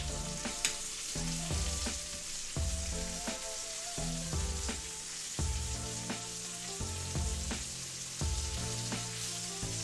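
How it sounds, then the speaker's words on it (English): Steak sears in a cast iron pan with a constant crackling sizzle, heard over a rhythmic tonal musical backing and with no voices. "I could try frying it."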